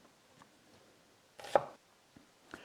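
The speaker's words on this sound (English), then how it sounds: "Now go through your red and your yellow onion" A knife chopping red and yellow onions on a cutting board: a few sparse, soft cuts, then one louder, sharper chop around the middle, with quiet gaps between strokes and no voices.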